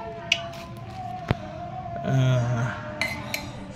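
A spoon scrapes and taps freshly made homemade turmeric powder into a jar, giving a few sharp metallic clinks and a brief rustling pour, fairly close.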